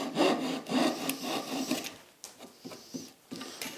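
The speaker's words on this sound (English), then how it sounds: "That's why it's called a pull saw." A Japanese pull saw cuts wood on the pull stroke, giving a close, rasping series of rhythmic strokes, heavier at first, then shorter and lighter toward the end, with no talking.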